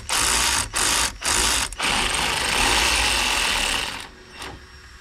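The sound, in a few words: ratchet undoing brake banjo bolt on Mazda MX5 caliper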